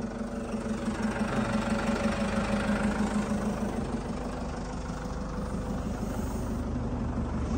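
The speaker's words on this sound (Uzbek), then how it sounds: "Mala gazda ishlab o'tirishiga qarang" Diesel engine of an excavator loader idling at low throttle, a steady close rumble with an even, slightly knocking pulse running unchanged throughout with no talk.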